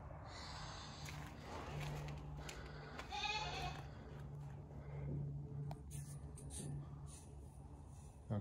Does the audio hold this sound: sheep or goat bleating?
yes